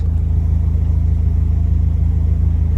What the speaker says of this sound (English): just listen to this rumble that it has